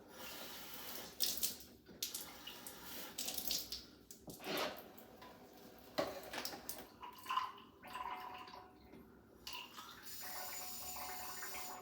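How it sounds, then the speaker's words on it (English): Water runs from a tap through a sprayer being rinsed out, giving a close, fluctuating hiss and splash with gurgles. Small handling knocks come and go as the flow shifts. "I usually run water through this to make sure there's nothing gunked up inside there."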